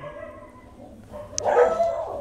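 A dog barks once or twice at moderate distance, a short muffled burst standing out over faint room noise with no talking.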